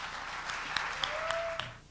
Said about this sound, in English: So please give a warm welcome and round of applause for Stu and Heidi Rodewald.